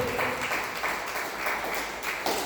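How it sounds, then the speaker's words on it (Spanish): A church congregation applauds loudly at a sermon, with steady, dense clapping from many hands filling the space for the whole stretch, fairly close and without speech over it. "Denle fuertes palmas a Jesucristo, porque Él se lo merece."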